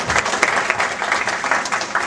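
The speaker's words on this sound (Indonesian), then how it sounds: "Mari kita tepuk tangan buat Tuhan Yesus" A church congregation claps for Jesus during a service, a full, busy wash of many hands applauding at once, steady and fairly loud for a couple of seconds with no speech over it.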